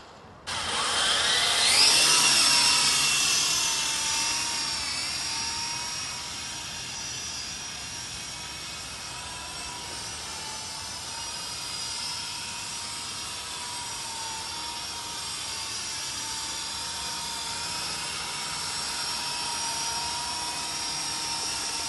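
A SYMA Chinook remote-control toy helicopter flies close by, giving off a steady, loud high-pitched whine of its small motors and rotors that swells at the start and then holds level throughout.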